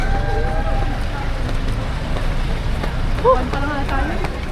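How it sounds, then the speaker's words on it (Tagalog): Rain falls on runners during a 5 km Pride fun run in Quezon City, a steady broadband patter with faint voices and movement from people nearby underneath. "Umuulan na."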